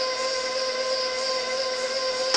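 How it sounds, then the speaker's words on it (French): Electric mixer whirring through homemade bird suet, a steady high-pitched motor whine held evenly throughout, loud and close with no talk. "Sauf que moi, j'ai un mixeur."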